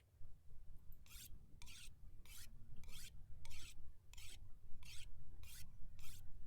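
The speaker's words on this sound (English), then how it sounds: "Maybe throw a sharpener or two into my knife." In the game Interloper, a knife is sharpened with about nine evenly spaced, bright rasping strokes over a low background rumble, faint and steady.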